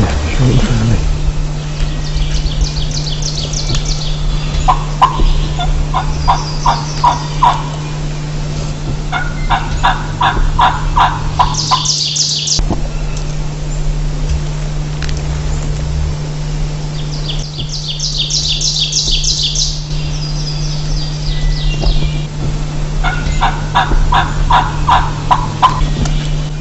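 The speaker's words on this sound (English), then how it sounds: "This gobbler came a long ways." Wild turkey gobbler in New England spring woods, repeated rattling gobble calls and clucks at varying distances, some near and loud, others fainter, over a steady low hum.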